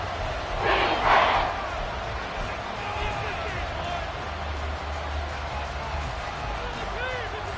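Crowd roar fills a packed stadium at an NFL football game involving the Patriots late in the fourth quarter, a steady loud din with a brief swell near the start and no clear talk over it.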